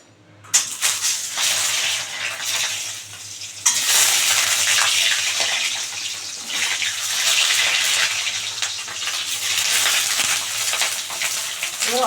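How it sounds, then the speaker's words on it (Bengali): Duck eggs crackle and sizzle as they drop one by one into hot white oil in a wok, a steady loud frying hiss that jumps up sharply as each egg goes in. "বন্ধুরা কড়াই গরম হয়ে গেছে এবার ডিমগুলো দিয়ে দেবো একটা একটা করে"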